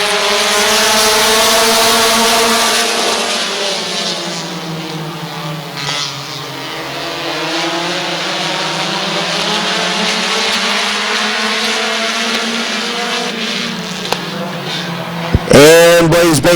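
Race cars roar around Midvale Speedway, a loud, sustained engine drone rising and falling in pitch as they lap, ending with a sharp burst of nearby revving.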